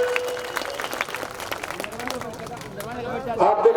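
A crowd at an outdoor political rally claps in scattered, uneven applause to welcome named guests, while someone speaks loudly over the clapping through a PA.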